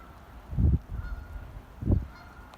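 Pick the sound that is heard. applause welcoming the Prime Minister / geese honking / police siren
geese honking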